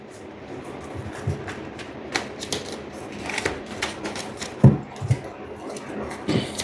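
Tarot cards being shuffled produce soft, irregular clicks and riffling taps over a steady low background hum, with a few sharper knocks standing out.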